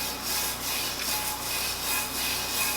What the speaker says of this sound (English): Now what you're actually doing is burnishing the glitter onto the cup.